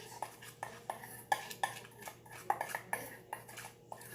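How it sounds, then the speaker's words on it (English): A small spoon taps and scrapes against a bowl while mixing ingredients, giving a run of light, irregular clinks at close range with no talking. "we're going to take a small spoon, like this one, and we are going to mix"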